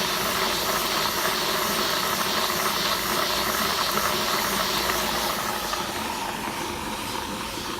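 An electric motor drives a gearbox on a test stand under load, giving a loud, steady whirring hum with a hissing edge that runs without a break. No voices can be heard.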